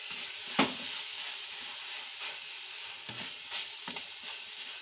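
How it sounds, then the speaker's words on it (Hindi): Khoya stirred into grated carrots frying in ghee, a steady close sizzle broken by a few scraping stirs of the spoon, with no talk. "अब हम खोया ऐड करेंगे और इस खोए को अच्छी तरह हम अपनी गाजरों में मिक्स करेंगे।"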